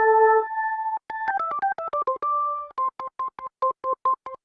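Hammond SKX organ with percussion set to third and second harmonic at fast decay: a sequence of bright, clicky tones, first a few held notes, then a run of quick stepping notes and a string of short repeated staccato chords.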